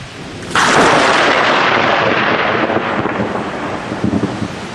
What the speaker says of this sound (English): Moving electrons create the drama and power of a lightning strike.